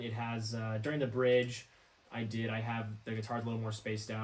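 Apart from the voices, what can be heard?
No everyday noise stands out behind the speech.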